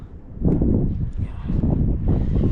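Wind blows outdoors and buffets the microphone in a loud, low, rumbling rush that swells and eases over a few seconds.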